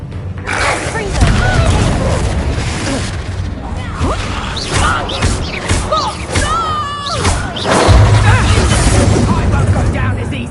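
Blasting spell explosions from a fantasy wizard combat video game, heavy booming bursts and crashes layered with whooshes and magical effects, dense and loud throughout amid busy battle noise.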